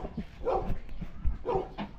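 A big dog barks in a few loud, close woofs, two separate bursts roughly a second apart, with some low whimpering between them.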